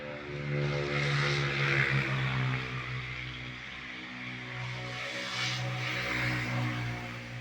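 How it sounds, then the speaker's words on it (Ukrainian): Motorcycles pass along a road through a winter nature reserve, a steady droning engine hum that swells and fades twice, moderately distant, with no talking. "О, моциклісти їдуть."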